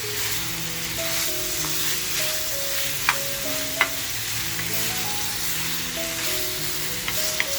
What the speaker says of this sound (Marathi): आपल्याला चिकन आहे ना इतकं फ्राय करायचं आहे की हलकासा ना चिकनचा कलर चेंज झाला पाहिजे